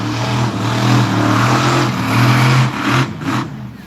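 A monster truck engine revs loudly at a speedway monster truck event, a deep sustained roar that swells and dips twice before easing off, heard close and alone.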